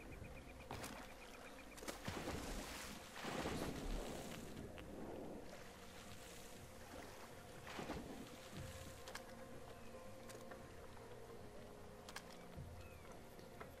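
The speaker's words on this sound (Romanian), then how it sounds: "Hai să iau o barcă să plec de aici, cu barca." Motorboat engine droning on open water in the Far Cry 2 video game, a steady hum with wind and wave wash, plus occasional louder bursts and thumps throughout.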